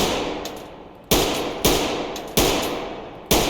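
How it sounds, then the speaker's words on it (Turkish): Full-auto sniper rifle fire in the tactical shooter game Ready or Not, loud sharp bursts landing at irregular intervals, each followed by a decaying ring, no voices. "Bu tam otomatik kesin nişancı tüfekleri."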